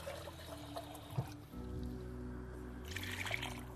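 Water or chicken broth is poured into a tomato sauce, a faint steady trickle over a low kitchen hum, quiet and close.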